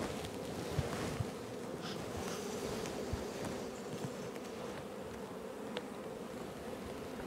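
Honeybees swarm over an open brood frame lifted from a hive, a continuous close buzzing drone with a few brief louder passes, no talking.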